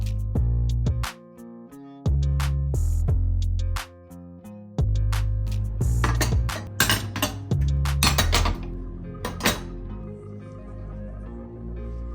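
Dishes being unloaded from a dishwasher, with ceramic plates, glasses and cutlery clinking and clattering close by, set down in uneven bursts with brief pauses between them.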